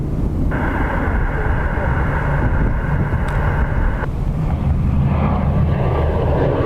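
An ATR turboprop airliner in the old green livery at Dublin Airport, heard as a steady, fairly loud engine roar and drone from a distance, blended with wind and road noise and partly under speech.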